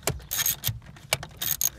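A 7mm socket and ratchet backing out the radio bolts on a 1997-2003 Chevy Malibu, giving quick bursts of metallic clicking in short rhythmic runs, close up and alone.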